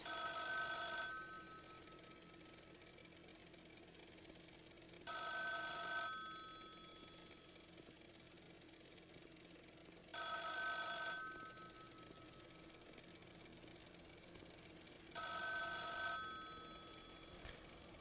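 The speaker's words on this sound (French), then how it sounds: "Hey, ce téléphone-là." An old telephone bell in the video game The Town of Light rings four times, each burst about a second long and evenly spaced about five seconds apart, loud against a quiet, dim room tone.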